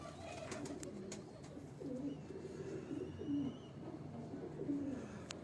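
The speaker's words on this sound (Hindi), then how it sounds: "ये दोस्तों रिजल्टेड कबूतर जो उड़े हुए कबूतर हैं" Pigeons cooing on a rooftop loft in Dharampura, Lahore, with several soft low coos repeating at a moderate distance over a steady outdoor background hum.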